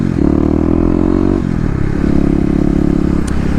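A 2018 Kawasaki KLX250 with stage 1 mods, its single-cylinder engine droning steadily while ridden on the road, pitch holding then shifting as it pulls, loud and close with wind and road rumble underneath.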